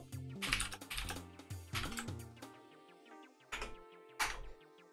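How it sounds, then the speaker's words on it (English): Keystrokes on a computer keyboard come in quick bursts separated by pauses, with a tonal game soundtrack playing underneath during an online multiplayer session of ChuChu Rocket! on a Sega Dreamcast. "I'm just typing to another person on another server"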